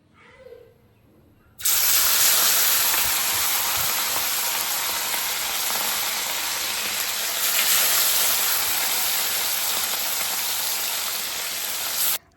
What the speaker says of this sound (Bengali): ওতে তেলও দিয়ে দিচ্ছি এবার মাছগুলো আস্তে আস্তে ভেজে নিব